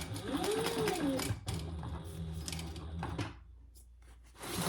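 Sewing machine stitching a slim snap-closure duffle bag, a steady mechanical whir running for several seconds, close and fairly loud, then stopping into near quiet before a short burst resumes.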